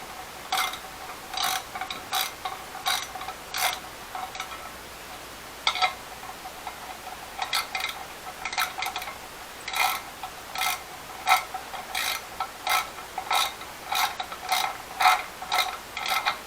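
Ratchet tightening engine casing bolts on a Honda CBR650R motorcycle, close clicking pawl bursts repeated in short runs with brief pauses between bolts, no speech.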